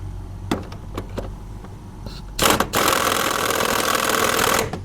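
Hydraulic press pump recharging while overhauling a Jaguar XKR/XK8 top wishbone fulcrum bolt: a few sharp knocks, then a loud, steady mechanical whirring hum that runs continuously close by.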